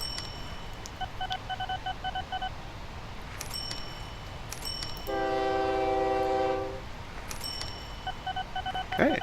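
Trains run in the OpenTTD video game, a steady low rumble under short beeping tones and a sustained multi-tone horn blast in the middle, all clean and game-like.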